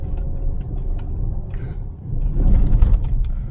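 A Maruti Wagon R LXi CNG car drives along a road, with a steady low engine and road rumble from inside the cabin and a brief rattle near the end.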